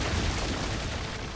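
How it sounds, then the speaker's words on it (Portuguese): An explosion in The LEGO Movie Videogame's Old West setting: a loud, dense blast with a deep boom that fills the moment and slowly thins out. "Eu explodi o coitado cavalo."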